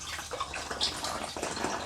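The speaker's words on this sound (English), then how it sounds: "pour it into our bottle with our sugar" Homemade tea wine trickles through a funnel into a bottle holding sugar, a continuous close splashing pour with gurgles and small drips.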